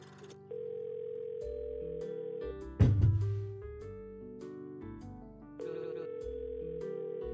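An in-game telephone rings in steady repeated electronic tones, with one louder thump midway and a brief pause before the ringing resumes, no voices.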